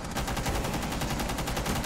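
Tachanka's mounted machine gun in Rainbow Six Siege rattles off a continuous rapid burst of evenly spaced shots, loud and close, with no voices over it.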